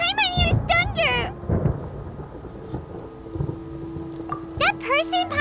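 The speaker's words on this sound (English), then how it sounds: "Paimon hears thunder!" Rumbling thunder from a storm in the Genshin Impact video game, a low sustained roll heard mainly between bursts of talk near the start and end, with a faint hum running through.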